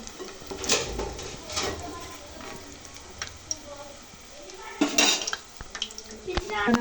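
Fried Manchurian balls are lifted out of a pan, with metal utensils clinking and scraping against cookware in a few sharp bursts over a soft background sizzle.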